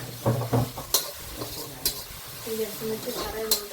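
Green chilies fry with garlic in a pan, giving a soft sizzle broken by stirring scrapes and light clinks while people talk nearby.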